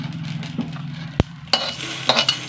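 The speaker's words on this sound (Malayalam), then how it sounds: "അരിയും വറുത്ത് വന്നു കേട്ടോ." Parboiled rice roasts dry in a pan with a soft crackle and light stirring, marked by a sharp tap and a few brief popping bursts near the end.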